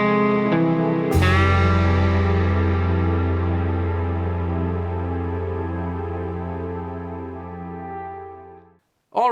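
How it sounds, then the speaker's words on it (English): Marshall Silver Jubilee Mini Head (2525H) on its clean channel in 20-watt mode, cranked to full volume: a single loud electric guitar chord rings out and slowly decays for about eight seconds, then stops, and a brief new strum begins. "what you heard was the Marshall Silver Jubilee Mini Head cranked full blast"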